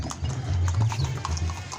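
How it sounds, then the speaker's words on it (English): Horse hooves clip-clop steadily on a hard street, several ridden horses close by, with a low rumble of traffic underneath and no talking. "Even ladies riding horses."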